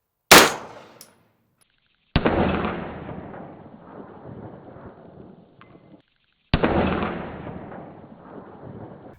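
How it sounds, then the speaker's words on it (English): Two sharp gunshots from a 9mm PSA AR rifle strike a full steel beer keg, each a loud crack followed by a long ringing, sloshing decay, spaced several seconds apart. "we have a 9mm PSA AR. Let's see how it does."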